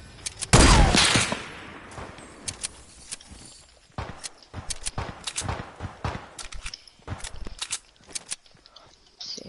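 A bolt-action sniper rifle fires in a video game with one loud, sharp shot near the start. Scattered clicks, footsteps and other game noises follow, and a voice talks at times.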